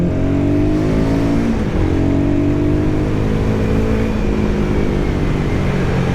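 A Royal Enfield Guerrilla 450 motorcycle accelerates on a twisting mountain road, its engine note climbing steadily through the gears, loud and close, with no talking over it.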